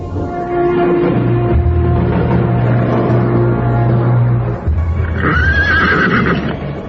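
A horse gives a long, loud, near neigh over a low rumbling background, followed by a second shorter whinny toward the end.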